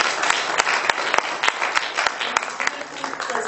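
Audience applause following a presentation on the Okumkpo masquerade, a brisk scatter of hand claps with sharp individual slaps standing out over a steady wash.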